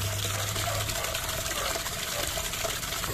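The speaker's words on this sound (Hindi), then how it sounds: "अब जो हम मसाला पानी डालेंगे आप सामने, देखिए फ्रेंड्स हम डाल रहे हैं पानी से" Spiced water being poured into freshly ground momo chutney, a steady continuous gush of liquid running for a few seconds, close and fairly loud with no talking.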